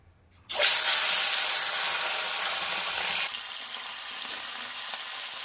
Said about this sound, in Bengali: হলুদ লবণ মাখানো মাছটা ভেজে নেব